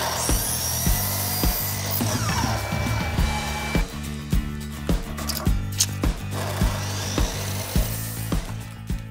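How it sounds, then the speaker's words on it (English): A power saw rips a barnwood board at a 10 degree angle, a loud continuous whining cut with regular thumping knocks throughout, heard alone with no talking. "we're going to take one of our boards and we're going to rip it at a 10 degree angle"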